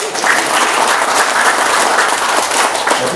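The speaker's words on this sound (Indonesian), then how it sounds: "Kita kasih aplaus lagi." Steady, dense applause from a crowd at a political party inauguration and consolidation event in Merauke, Papua, filling the whole stretch at full volume with no break.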